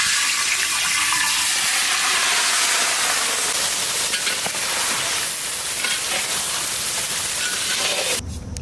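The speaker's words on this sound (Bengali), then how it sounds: "তেল গরম হয়ে গেছে, ভেজে নেব চিংড়ি মাছ" Prawns fry in hot mustard oil over cumin seeds in a kadai, producing a loud, dense, steady sizzle close by that fills the whole stretch before suddenly easing off at the end.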